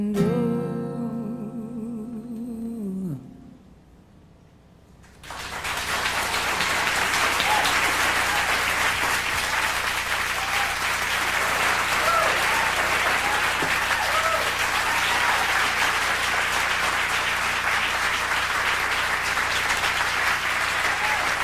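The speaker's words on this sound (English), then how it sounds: "I'm sure glad all you people are here to clap" An audience at an intimate concert in Toronto in 1994 gives sustained, dense applause after a song ends with a held musical note and a brief hush. The clapping stays loud and full for over fifteen seconds.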